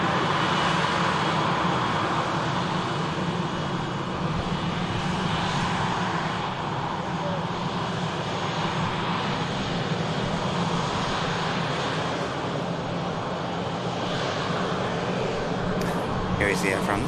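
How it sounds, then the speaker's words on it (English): At Manchester Airport, an Air France Embraer jet about to touch down sends a steady, broad engine roar that stays fairly even in level, with voices faintly present beneath it. "and now we have the Air France about to touch down."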